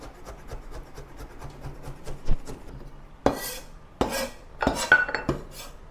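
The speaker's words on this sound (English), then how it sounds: "Cut the bamboo shoot into thin slices and then into small pieces." A knife cuts bamboo shoot on a board, starting with a run of soft, quick, light taps and rasping strokes, then several sharper, louder chops spaced a second or so apart, close and with no talking.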